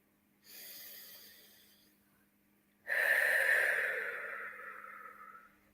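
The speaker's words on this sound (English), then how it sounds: "just a nice few deep breaths" Two deep breaths, each a long airy rush of air: a shorter one, a pause, then a stronger, louder one that slowly fades. Close and clear, with no talking.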